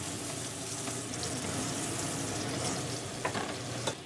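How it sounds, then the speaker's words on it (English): A plant-based burger sizzles in a hot pan with a steady, even crackle and hiss of frying fat that holds through the whole stretch, close and alone with no talk. "It sizzles as it's cooked in a pan."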